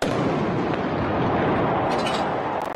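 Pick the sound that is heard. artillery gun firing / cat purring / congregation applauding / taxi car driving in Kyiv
artillery gun firing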